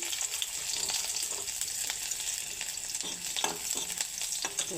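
A steady, close sizzle of food frying in hot oil in a wok, with faint scraping and stirring sounds.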